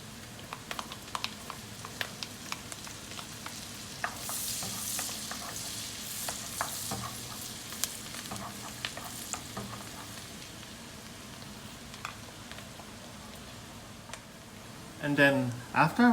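Garlic sizzling in a pan with onion cooked until transparent, a soft continuous frying crackle with light stirring clicks, ending in a couple of louder clatters near the end.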